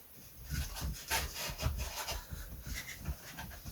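A coarse sanding block rubs back and forth over a wooden part of a model aircraft, giving repeated scratchy strokes in an uneven rhythm, close and fairly loud.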